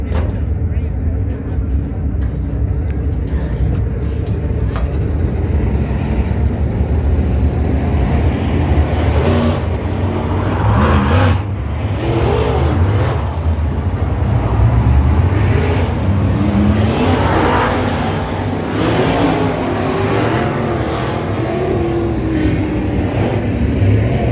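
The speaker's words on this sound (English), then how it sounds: "5K of Casey Coleman out of Wichita, Kansas, here in heat race number 1 for your alternative Pest Management USRA Modifieds." USRA Modified race cars roar around a dirt track during a heat race, engines loud and continuous with revving swells and cars passing, while an announcer talks over the PA.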